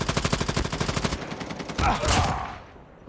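Rapid automatic gunfire in the video game Call of Duty rattles out as a fast, loud burst of evenly spaced shots, then gives way to a heavier blast and a fading rumble.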